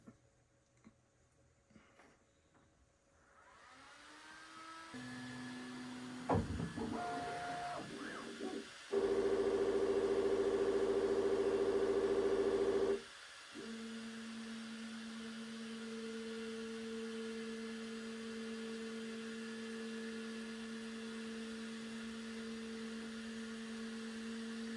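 An X1-Carbon 3D printer, one with a Z-axis homing fault, runs its self-test: quiet at first, then clicks and shifting motor whirs, a loud steady motor drone for a few seconds, and a sustained steady hum to the end.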